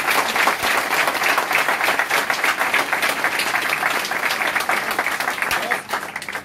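A large audience at a company gathering in India breaks into sustained, dense applause, steady and loud for several seconds before tapering slightly at the end, with some voices faintly mixed in.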